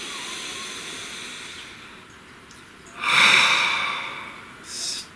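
A slow, deep breath drawn in and let out close to the microphone over a soft steady hiss, followed by a shorter second exhale.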